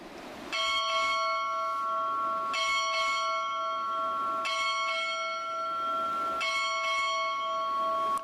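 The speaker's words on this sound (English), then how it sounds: "Time orderly, strike 8 bells." A ship's bell rings out eight bells on board at a recruit training command, four clear paired strikes with long ringing tones, loud and close, with no talk over it.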